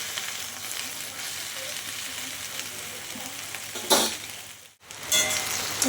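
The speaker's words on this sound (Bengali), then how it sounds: "ভেন্ডিটা এমন করে ভাজবো যে সেদ্ধও হবে ভাজাও হবে" Okra (bhindi) fries in a pan with a steady sizzle and crackle, briefly broken by a couple of stirring scrapes and a short dip near the end.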